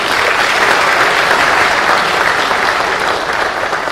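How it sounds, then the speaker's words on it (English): Loud, sustained applause from an audience at a university security summit, with many hands clapping in a thick, continuous wash that holds steady for nearly four seconds. "So can we give you a round of applause?"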